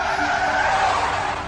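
A car brakes hard and its tires skid in a loud, continuous screech that holds steady for about a second and a half. No voices are heard.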